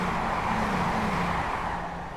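Class 159 diesel trains roaring past at Clapham Junction, a loud, sustained engine drone with a low rumble that holds steady and then eases slightly toward the end.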